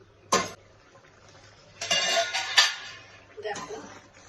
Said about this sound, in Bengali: এবার দেখো বন্ধুরা, ঢাকনাটা আমি তুলবো